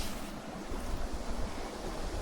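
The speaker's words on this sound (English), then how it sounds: "see we have a river here. I don't know if I should call it a stream." A small seasonal stream runs beside a swampy village construction site in Kenya, producing a steady, full rushing wash of water with some wind-like noise throughout and no voices.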